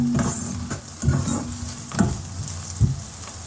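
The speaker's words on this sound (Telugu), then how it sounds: "ఉల్లిపాయ ముక్కలు వేగుతున్నాయి కదా" Onion pieces fry in a pan for chicken curry with a constant close sizzle, punctuated by about four rhythmic scraping stirs of a spoon.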